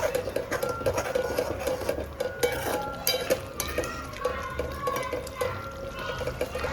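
A spoon stirs vegetable curry in a pot with repeated clinks and scrapes against the metal, fairly faint and uneven over a low background hum.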